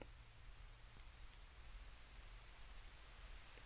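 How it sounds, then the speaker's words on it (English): Steady rain recorded outdoors on a trail, a dense even hiss of drops on surfaces with a low rumbling undertone, continuous and fairly soft with no voices. "in the background we're going to pull in the sound of the rain that I recorded this morning on the trail"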